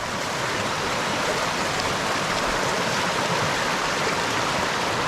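A river in Roan Mountain State Park, Tennessee, rushes steadily and loudly at close range, a continuous broadband wash of flowing water with no voices.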